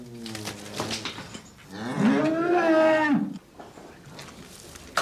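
Cows in a stable awaiting hay in their mangers, one long, loud, close moo swelling and falling over about a second and a half, with quieter mooing and stable clatter before and after.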